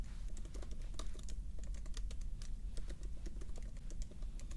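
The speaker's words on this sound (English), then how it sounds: "I'm just gonna go ahead and type this in." Steady, fast typing on a computer keyboard in a quiet medical exam setting, a close, continuous run of light clicks with no voices.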